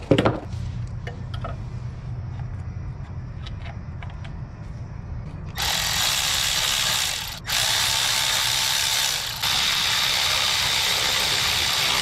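Hand tools remove the thermostat housing from a K24 engine, with quick ratchet clicks and metallic clinks at first, then a loud steady whooshing noise filling the rest, with no voices.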